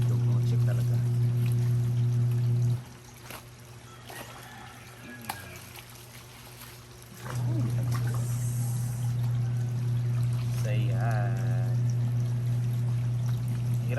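Water poured and splashing during hand-washing of white laundry on a farm, a steady pour that stops for several seconds and then resumes over a constant low hum, with a voice faintly in the background.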